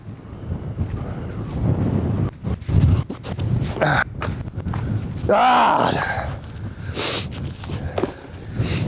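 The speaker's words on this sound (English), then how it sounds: "This wind's really picking up today." Strong wind gusting across an open disc golf course in Oklahoma, a steady roaring buffet on the microphone that swells and dips, with a person talking over it.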